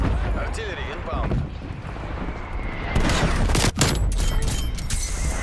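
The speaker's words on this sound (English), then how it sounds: "Artillery inbound." Incoming artillery fire in a video game: heavy booms and crackling bursts over a dense, noisy battle mix, with sharper blasts near the end.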